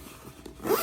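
A zipper closes on a Skull & Co. GripCase Lite carrying case, a short near zip that grows louder and brighter toward the end, heard alone without talk.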